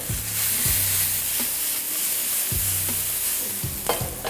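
Chopped onions, tomatoes and roasted garlic sizzle steadily in a hot pan, with repeated scraping stirs of a utensil breaking through the continuous frying hiss, close and fairly loud throughout.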